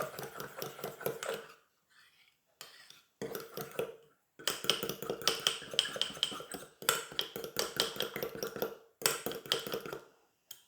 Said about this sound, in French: pour bien battre l'œuf. Vous battez votre préparation.